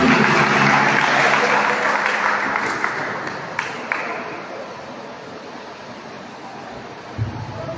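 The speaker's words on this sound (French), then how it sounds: "Pendant que nous applaudissons le Seigneur dans la vie serviteur," A congregation claps at a Haitian church worship service: a dense, loud wash of applause that gradually thins and softens, with a few louder claps near the end.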